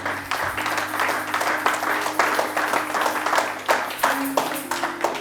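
A church congregation claps and cheers in praise of the Lord, a loud, sustained round of applause with overlapping hand claps and a faint voice beneath.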